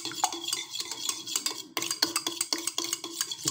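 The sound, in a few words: beating two eggs in a bowl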